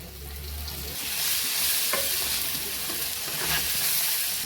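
Finely chopped tomatoes frying with spices in a pan for a Telugu crab curry, a continuous loud sizzle and hiss with a few stirring scrapes, close and steady with no talk.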